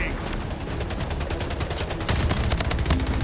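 Rapid SMG fire rattles in the video game Splitgate, dense bursts of shots layered with game effects and someone talking over them.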